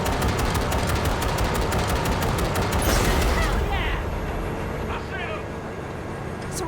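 Rapid gunfire in a train-heist video game sprays at a rolling train's coupler, a dense stream of shots over rumbling rail noise that fades after about 3 seconds.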